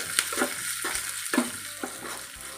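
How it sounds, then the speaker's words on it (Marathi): A phodni of mustard seeds, urad dal, hing and curry leaves sizzles in hot oil while being stirred, a steady close hiss broken by soft spoon scrapes and pan knocks, with no talking. "फोडणी अशी छान जरा खमंग करून घ्यायचे"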